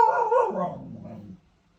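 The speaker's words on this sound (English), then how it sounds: "My dog likes to howl when she hears things." A pet dog howls close by indoors, a single drawn-out wavering howl that falls in pitch and fades out after about one and a half seconds.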